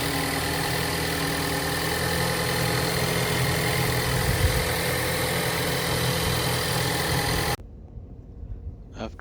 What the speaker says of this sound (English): The car started smoothly and the engine is smooth